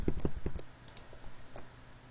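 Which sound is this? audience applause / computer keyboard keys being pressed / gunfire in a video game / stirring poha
computer keyboard keys being pressed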